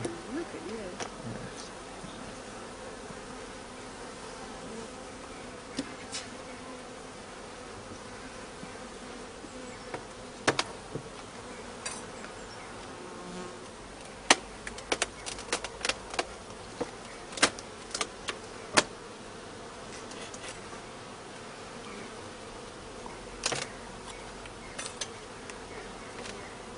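Honeybees buzz steadily throughout a beehive inspection at an apiary, with the drone rising as the brood box is opened, broken by occasional sharp knocks and clicks from handling the hive.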